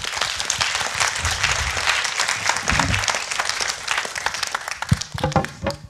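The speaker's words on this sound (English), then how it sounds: "applaud for Frank" A lecture-hall audience applauds a speaker after a talk, a dense steady patter of many hands clapping close and loud for several seconds before thinning into a few scattered final claps.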